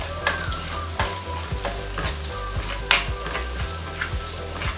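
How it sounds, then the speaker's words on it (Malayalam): Ginger-garlic paste and two dried red chillies sautéing in hot oil, a steady loud sizzle with a spatula scraping the pan in regular strokes roughly every half second, no voices. "അതുകൂടെ നല്ലവണ്ണം വഴറ്റിയെടുക്കുക"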